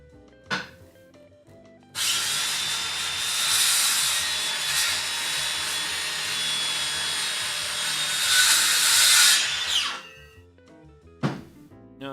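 A power saw cuts through wood along a kerf, a loud, sustained, buzzing whine lasting about eight seconds and swelling near the end. Brief knocks and motor spin-up or spin-down sounds come before and after the cut.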